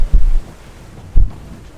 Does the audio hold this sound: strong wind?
yes